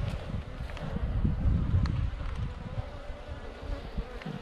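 Honeybees buzz steadily around an open beehive during a beekeeping inspection, a dense close swarm hum with low rustling and faint wind, no voices.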